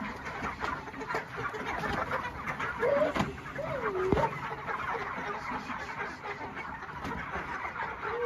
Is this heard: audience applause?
no